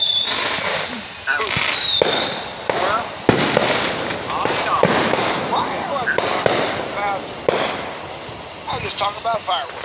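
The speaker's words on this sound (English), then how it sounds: "Talk about fireworks." Independence Day fireworks and firecrackers going off in a rapid, irregular series of close cracks and bangs, with people talking over the noise throughout.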